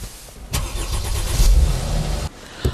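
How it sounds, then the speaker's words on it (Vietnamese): A car engine cranks and starts in deep Moscow winter snow at around -30°, a loud close burst of starter and engine roar that settles into a steady running rumble before a brief final rev. "Phải mất nhiều thời gian hơn để nổ máy, làm nóng xe."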